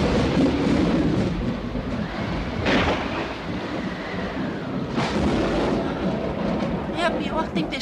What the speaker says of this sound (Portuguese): É a pior tempestade que eu já vi.